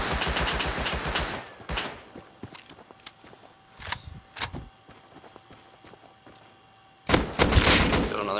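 Gunfire in the video game Rust: a rapid burst of automatic fire opens, then scattered single shots and footsteps-like thuds, ending in another loud burst of shooting.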